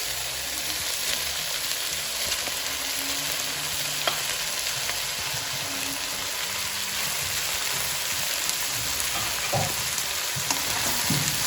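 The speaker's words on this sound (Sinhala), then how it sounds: "ඔයගලන්ට පේනවා අපි ඒකට බත් ටික එකතු කරගන්නවා" Cooked rice is tipped onto chicken in a pan for spicy Thai chicken fried rice, giving a continuous crackling stir-fry sizzle with soft scraping and tossing sounds throughout.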